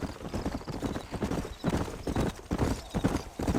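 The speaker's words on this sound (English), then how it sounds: "You ain't gonna find sturdier horses than these in all of New Office." Horses' hooves clip-clop steadily in the Red Dead Redemption western game, with dense, overlapping hoofbeats from several animals riding together close by, and a brief whinny mixed in.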